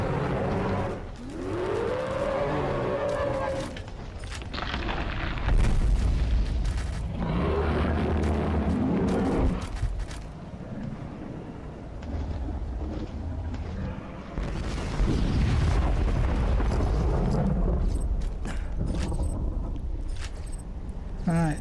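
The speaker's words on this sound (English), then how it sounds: "So when you throw it down, it creates an explosion." A turret's nuke blast erupts in the video game Borderlands 2, a loud booming explosion amid continuous gunfire and game chaos, with people talking throughout.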